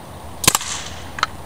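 A Byrna TCR launcher fires at a laptop computer, giving a sharp crack with a quick second snap, then a fainter smack about three-quarters of a second later, close and alone without talk.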